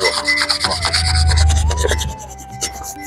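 Rubbing and scraping on an animal's horns during horn care with oil, a steady close rasping friction with a low rumbling texture through most of the stretch, then fading into lighter scratches.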